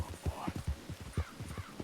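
Horse hooves clip-clopping in Red Dead Redemption 2 at a walking pace, a quiet, steady rhythm of soft thuds with no talking.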